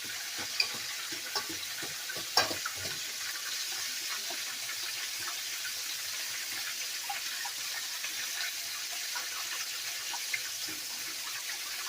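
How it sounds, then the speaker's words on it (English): Milk being stirred into a chicken batter mixture, a soft continuous wet swishing and sloshing with a few brief clicks against the bowl, fairly close and without talk. "And we're going to stir."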